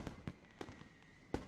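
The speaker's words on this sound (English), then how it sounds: "Whoosh! Fireworks." Fireworks in a visual novel game bursting over a school at night, with several sharp separate pops and a whooshing streak, fairly faint and spread across a short span with no talk.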